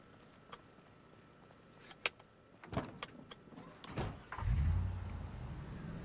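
A car in the Project Zomboid video game turns around: a few faint clicks and knocks, then a low engine rumble swells up and holds steady near the end.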